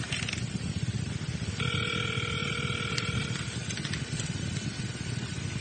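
Telephone ringing on a call, a faint steady electronic ring tone heard through a phone line over a hissy, noisy background, with no answer.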